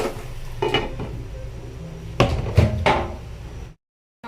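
Metal pan lid clanking down over stir-fried pechay in a home kitchen, a few sharp clattering knocks near the mic, the last one the loudest, before the sound cuts to silence.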